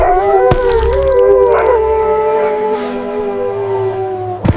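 A dog gives a long, wavering howl that holds for several seconds, loud and close, over a low rumbling background with a few faint knocks.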